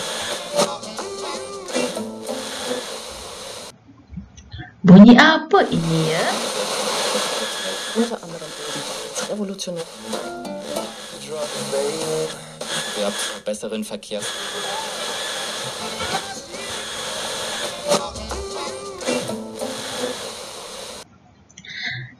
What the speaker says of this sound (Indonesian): ini adalah bunyi radio.